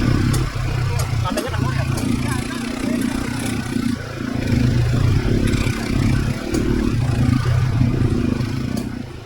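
An ATV with a slack drive chain rides through a Bali adventure track and cave, its steady engine drone near and loud with continuous rattling and clatter throughout.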